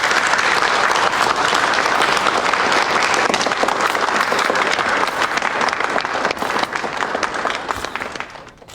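Loud, dense audience applause at a jewelry launch event welcoming a designer, continuous clapping from many hands that fades toward the end.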